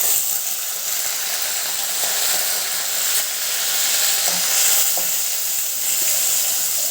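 Onion paste with a large chili and bay leaf pieces sautéing in hot oil over a low flame for a cashew garlic curry, making a loud, steady, bright sizzle that holds evenly throughout with faint occasional stirring clicks.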